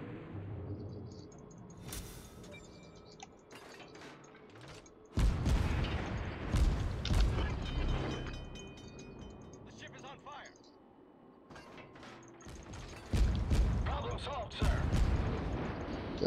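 Deep booming naval cannon shots in World of Warships go off repeatedly in heavy bursts, mixed with mechanical rumble, while someone talks over the action.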